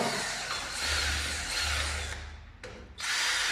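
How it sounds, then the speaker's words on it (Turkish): A handheld power drill boring holes into a PVC window sash, whining steadily and close up, dipping briefly to a pause before spinning back up. "böyle manuel matkapla atamak zorundayım"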